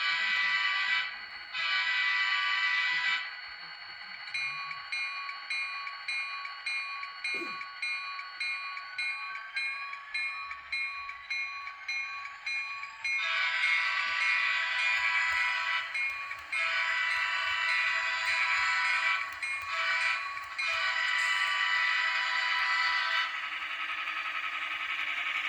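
Atlas model train locomotive sound system pulling out, with a loud electronic horn or bell tone blaring in long repeated blasts over a faint, steady rumble of motor and track.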